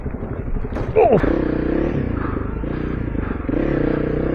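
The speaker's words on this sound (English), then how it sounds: "the exhaust sounds amazing. You can hear it." A Honda CRF300L Rally motorcycle with a new exhaust rumbles steadily nearby on a trail, a clattering bump early on, the exhaust note rising slightly toward the end.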